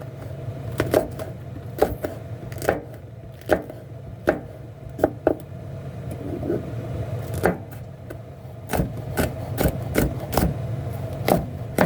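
A knife chops freshly harvested chili peppers one by one on a board, sending out sharp, close, irregular taps in quick clusters over a low background hum. No one speaks.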